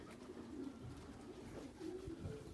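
Soft, low cooing of purebred sport pigeons repeats several times over a steady murmur of background noise, fairly close but quiet.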